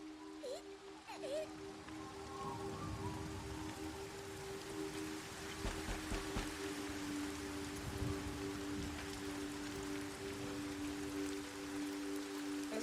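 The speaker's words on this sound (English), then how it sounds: "I really like the rain." Steady rain falls throughout in the video game Everybody's Gone To The Rapture, a continuous soft hiss of drops on surfaces with a constant low hum and a few faint sounds at the start.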